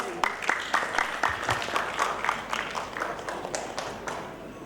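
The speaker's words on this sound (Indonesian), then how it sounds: "kita berikan aplaus yang meriah" A hall audience at a May Day event in Makassar breaks into applause, many hands clapping in a dense, steady patter that holds the same level throughout, with no talk over it.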